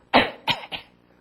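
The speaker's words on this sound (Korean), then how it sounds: "감기 걸려서 기침해" Three quick coughs from someone with a cold, close and loud, the first strongest and the next two shorter, followed by quiet.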